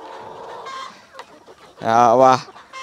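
Soft clucking from chickens on a mountain farm, then a louder drawn-out squawk near the end, with a voice faintly in the background.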